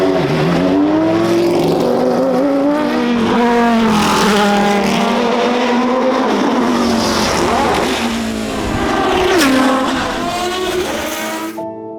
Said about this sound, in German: The sound of that V10 was stunning,